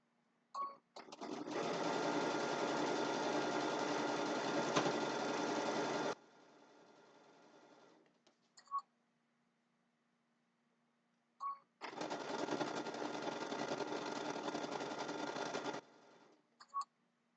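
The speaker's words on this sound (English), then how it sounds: "you notice I don't try to sew the whole thing without stopping" A sewing machine stitches a quilt border in two long steady runs of rapid whirring, with a quieter stretch and a few short clicks between them as the quilter pauses.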